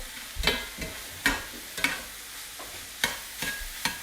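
Garlic and ground meat fry in a pan for lasagna, with a steady sizzle broken by several sharp scraping stirs of a utensil against the pan, close and fairly loud with no talking.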